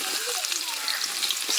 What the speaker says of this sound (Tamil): வெங்காயம் நல்லா பொன்னிறமாக வர்ற வரைக்கும் வதக்கிங்க